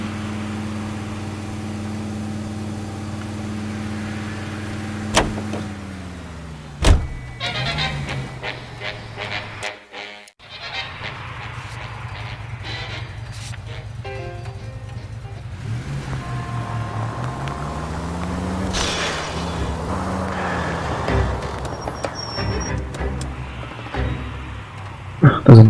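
A police car in the video game L.A. Noire Remastered drives along with a steady engine drone whose pitch rises and falls as it speeds up and slows. There is a brief cut-out midway and faint background voices at times.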